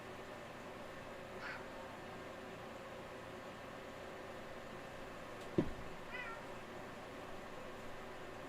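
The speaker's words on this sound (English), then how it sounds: "my cat was in here" A cat meows faintly a couple of times in an indoor room with a fiber laser engraver setup, over a steady low background hum, with a short bump of handling noise between the calls.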